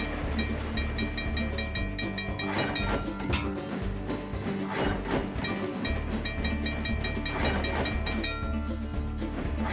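A yellow train runs on rails in the railway simulation game Trainz, with a constant rumbling drone, tonal engine hum and repeated clicking wheel beats, loud and steady throughout.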